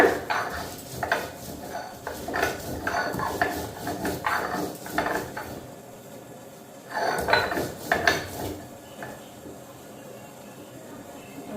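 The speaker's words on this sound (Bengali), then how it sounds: "আদাটা একটু ছেঁচা নিই।" Ginger is crushed together with cumin and coriander on a grinding stone, giving repeated scraping and knocking strokes in uneven bursts, with a pause midway before a second run of grinding.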